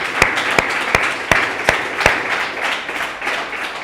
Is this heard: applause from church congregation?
yes